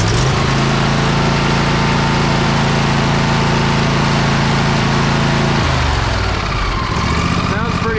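A Briggs & Stratton 724 cc, 24 horsepower V-twin engine on a Craftsman Platinum XRD riding mower runs loud and close with a steady throbbing drone, its pitch dropping partway through, while a voice talks over it.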